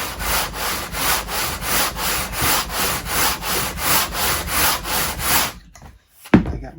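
Wood being sanded smooth for a guitar build, a loud rhythmic back-and-forth rasp of about a dozen even strokes, stopping near the end with a brief clunk.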